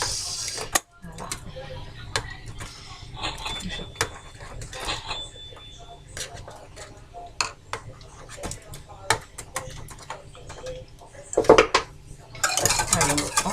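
A utensil stirs cassava porridge in a pot, giving repeated light metallic scrapes and clinks in an irregular rhythm, fairly faint and close, with a louder burst of clatter near the end.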